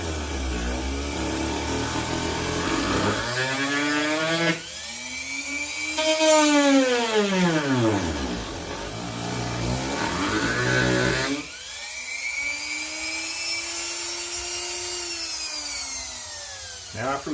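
A Dremel rotary tool fitted with a diamond cutting wheel cuts slots during a 1939 Graham restoration, its high whine sweeping up and down in pitch over several long, loud passes with brief pauses between cuts.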